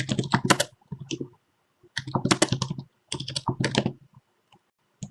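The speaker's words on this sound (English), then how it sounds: "type whatever you want to type" Bursts of clattering keystrokes on a computer keyboard, typed in three quick runs separated by short pauses, close and fairly clear with no voice.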